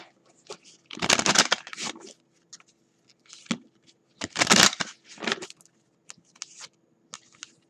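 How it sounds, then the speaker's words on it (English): Chakra wisdom oracle cards being shuffled by hand, several quick riffling bursts separated by pauses and softer rustles, close and moderately loud with no talking. "I'm going to shuffle just to kind of pull what's going on here."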